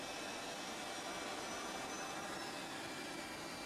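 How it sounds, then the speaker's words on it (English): An airliner's number two engine starts up, producing a steady, broadband whooshing roar that holds even and faint-to-moderate across the whole stretch, with no voices. "all doors and hatches are closed and you're clear to start engine 2"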